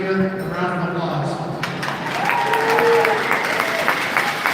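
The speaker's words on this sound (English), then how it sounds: "I'm sure everyone would like to give you a round of applause" A crowd at a U15 junior girls' hockey game applauds both teams, with loud, sustained clapping and cheering in an arena while a voice carries faintly beneath it.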